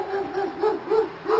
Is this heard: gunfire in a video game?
no